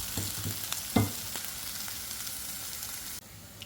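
A filling frying in a pan while being stirred: steady close sizzling with a few spoon scrapes and knocks against the pan, including one sharper clack near the start.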